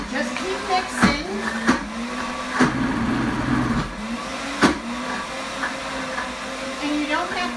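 A Pampered Chef Deluxe Cooker Blender whirs loudly as it purées hummus, its motor holding a steady drone with recurring surges and sharp knocks as the tamper works the thick mixture.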